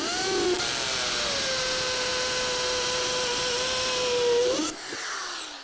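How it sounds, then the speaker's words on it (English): A corded-style impact driver sets a screw into wood during soundproofing work, one long whining, rapidly hammering burst that winds up loud and close, then cuts off abruptly. "One of the parts of the problem with using this kind of impact driver is it's really hard on screws"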